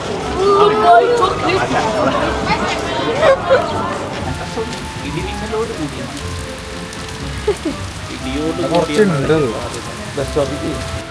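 Steady rain patters on a surface throughout in Barcelona, with people's voices chattering faintly beneath the downpour.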